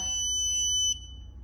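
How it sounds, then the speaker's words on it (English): A Growatt 5kW ES inverter beeps at power on: a steady high-pitched electronic tone, loud and continuous, cutting off abruptly after about a second over a low background hum. "It'll make a beeping sound."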